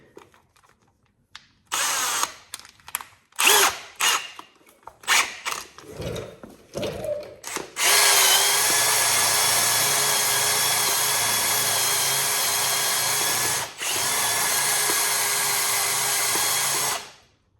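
Power drill enlarging holes in a Yamaha Blaster part, first in short stuttering bursts, then running in a long steady high whine that breaks off briefly and resumes before stopping.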